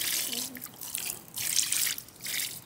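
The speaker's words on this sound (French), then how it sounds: "Là on a un système de douche solaire où on peut justement actionner la douche" Water sprays from a pumped solar camping shower at a camper van in hissing, splashing surges that come and go in several bursts, close by, with faint talk underneath.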